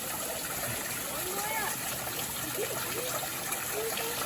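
Water trickles and splashes steadily down a homemade budget waterfall set against rock, a continuous close babble with faint bird-like chirps scattered through it.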